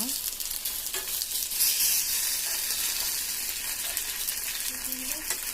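Thin potato slices fry in a small amount of oil for crispy chips, a steady bright sizzle with occasional clinks and scraping from stirring, continuous and close.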